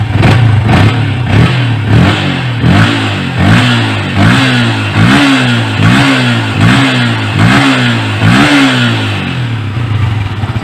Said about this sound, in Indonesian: Ketika kita gas spontan pun juga langsung respon seperti ini